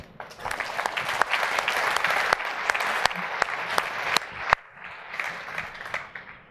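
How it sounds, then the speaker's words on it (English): An audience at ChefConf 2015, a tech conference, breaks into applause, a dense burst of clapping from a large crowd that holds steady, briefly drops out, then carries on a little softer. "I think you need to give yourself applause for that"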